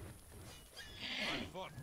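A horse whinnies briefly in the video game Oblivion over a busy background of game sounds and noise, moderately loud and not far off.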